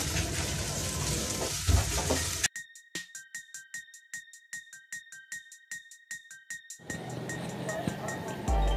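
Chicken pieces sizzle in a frying pan. In the middle the frying gives way to a regular series of short electronic beeps, and then the sizzling returns.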